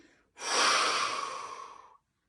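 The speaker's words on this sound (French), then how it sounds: "Vous inspirez par le nez. Allez, et vous soufflez fort sur cette émotion." A single forceful exhalation blown out hard after a nasal inhale during a sophrology relaxation exercise, a close, breathy rush lasting about a second and a half before silence.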